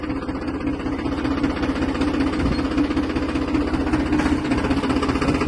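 Tractor engine idling steadily with a trailer attached, a continuous low, rumbling drone with a slight knock that holds close and even throughout, with no voices.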